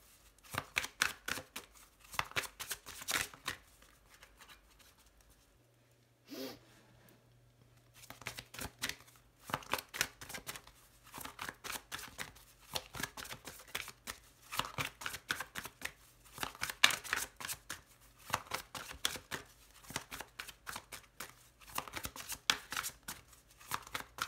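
Tarot cards riffled and shuffled in rapid bursts of dry flutters and snaps, with a short pause and a faint hum before the shuffling resumes, close and fairly quiet.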